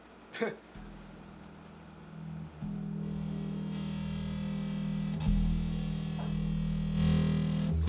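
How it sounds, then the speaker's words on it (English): Low, distorted bass notes ring out and hold, shifting pitch a few times, thick and buzzy, close up. "I'll just go ahead and add distortion too"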